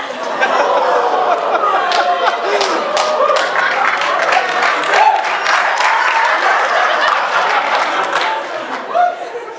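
Steady, full applause from a large comedy show audience with crowd chatter mixed in, sustained at an even level throughout.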